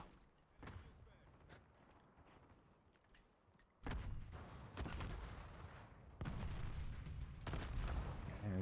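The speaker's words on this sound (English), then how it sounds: "Concussion grenade out." Concussion grenade going off in a Call of Duty Black Ops 6 hardpoint match: sudden loud bursts land among repeated gunfire-like blasts over a busy game soundscape.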